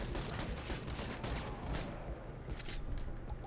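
Gunfire in the video game Radikal Fighters comes as rapid, overlapping bursts of shots, fairly faint and blended into a busy, continuous game soundscape.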